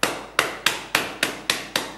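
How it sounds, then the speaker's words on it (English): A rolling pin whacks fresh ginger inside a plastic bag on a kitchen counter. Seven loud, sharp thuds land at a steady, even pace with nothing else heard. "with my rolling pin and my best implement in the kitchen, I'm going to whack it to submission"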